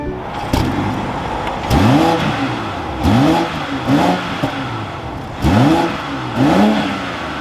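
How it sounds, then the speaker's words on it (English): A 2023 BMW X6 xDrive40i engine is revved repeatedly up close, with about five quick throttle blips that climb and fall in pitch over a steady idle rumble. "let's fire this X6 back up"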